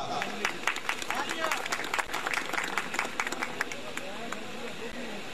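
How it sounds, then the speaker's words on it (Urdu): Audience applause at the All Pakistan Truck Trala Convention, a steady wash of many hands clapping together in a hall for several seconds, dense and continuous with some crowd murmur beneath. "اپنی بھرپور تالیوں میں"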